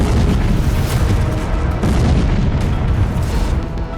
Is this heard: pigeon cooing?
no